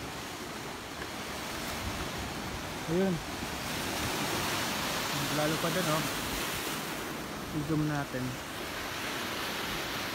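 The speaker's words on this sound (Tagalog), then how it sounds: "Ayun yung agos ng alon oh. Humahampas talaga. Malakas na yan oh." Strong ocean waves surge and crash against the shore at Brgy Linao, a broad, continuous wash of surf under wind noise, with someone speaking briefly over it several times.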